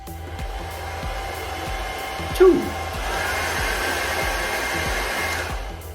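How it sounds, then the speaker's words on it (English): A hair dryer in a cruise ship cabin blows with a steady whirring hum, briefly interrupted by a click and a short word as the setting changes, then resumes at a slightly different pitch. "Let's do a hairdryer test for you all."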